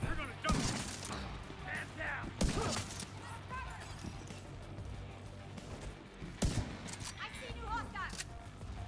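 Gunfire in The Division 2, a few sharp, loud shots scattered across the clip, with game sound effects and a steady background hum.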